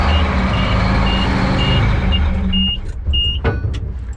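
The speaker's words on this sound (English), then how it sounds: "This thing doesn't even crank, it just starts." A vehicle engine idles loudly and steadily up close while a repeating electronic beep chimes over it, then the running sound drops back with a few clicks and knocks.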